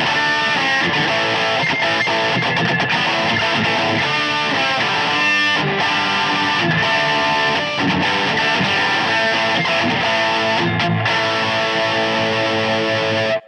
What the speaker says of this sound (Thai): โอเคมาดูเสียงแตกกันมาดีกว่าปิกอัพหลังกันดีกว่า